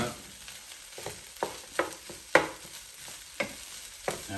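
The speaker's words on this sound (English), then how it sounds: "Mix it up." A spatula scrapes and tosses bacon fried rice around a pan in an uneven run of sharp strokes over a soft steady sizzle, heard close up with no talking.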